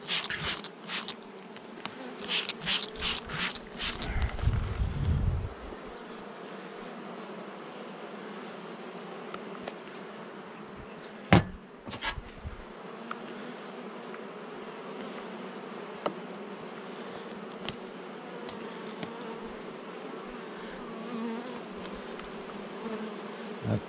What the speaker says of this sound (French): Attention, une petite abeille